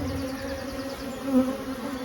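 Honey bees buzz steadily on a hive frame during a spring disease inspection, a dense, continuous drone close by with no voices.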